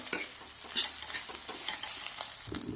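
Rice being sautéed in a pan for coriander fried rice gives a steady, close sizzle with repeated scraping stirs and a few sharper clinks, with no voices.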